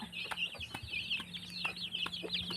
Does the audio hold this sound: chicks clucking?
yes